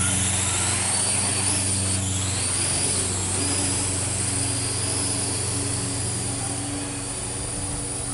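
A Parrot AR.Drone 2.0 quadcopter takes off and flies, its rotors giving a steady, loud, close whine with a buzzing hum underneath that holds throughout.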